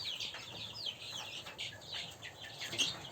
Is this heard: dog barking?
no